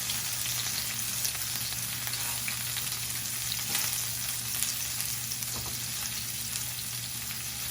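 Leftover lechon sautéing with garlic in a pan crackles and sizzles steadily up close, over a low constant hum, with occasional stirring clinks.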